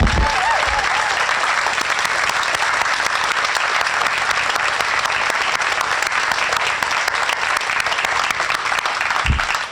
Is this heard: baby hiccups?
no